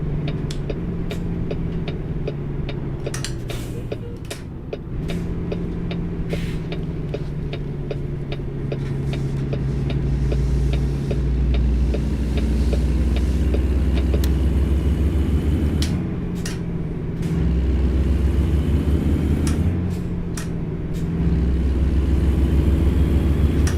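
A blue semi truck with a big sleeper cab in American Truck Simulator runs with a loud, steady low engine drone that rises and falls in pitch through gear changes, heard alone without talk.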